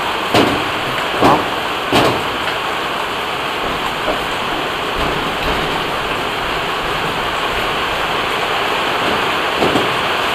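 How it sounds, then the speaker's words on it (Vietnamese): Heavy rain pours down in a dense, steady hiss that fills the whole scene, broken by a few dull knocks near the start. "Mà do trời mưa quá lớn nên nghe không kỹ."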